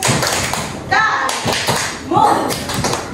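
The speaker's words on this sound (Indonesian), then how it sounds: "Tepuk oke untuk Rafif." A classroom of children does a rhythmic 'okay' clap, a quick patterned run of hand claps and taps mixed with voices chanting along.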